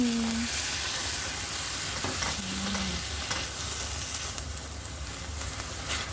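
Tender boiled beef chunks sizzle and crackle steadily in a hot pan during a light stir-fry for beef broccoli, with a few short scrapes of stirring over the constant frying hiss.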